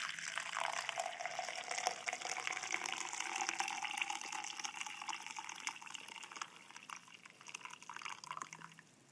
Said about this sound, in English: So we'll just pour that into the cup.